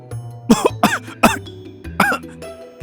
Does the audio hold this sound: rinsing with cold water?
no